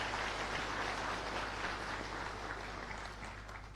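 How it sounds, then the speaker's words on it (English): A crowd at a Botswana Police Service gathering applauds for the Police Commissioner, a faint, distant, steady patter of clapping under a constant low hum that fades slightly toward the end. "Another big round of applause for the Commissioner."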